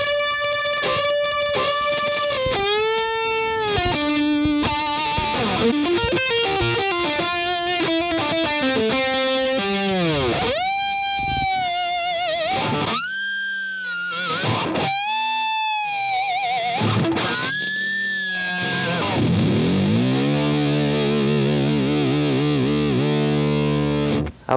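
A heavily distorted electric guitar plays the final section of a solo over a jam track, with sustained bent notes, fast runs and wide vibrato, loud and continuous throughout.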